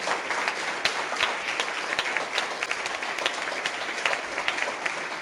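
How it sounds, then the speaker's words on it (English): Evening audience applauding presenters at a talk event, a moderate, fairly sparse round of clapping with individual sharp hand claps standing out, steady for several seconds. "have a round of applause for all of the great presenters tonight"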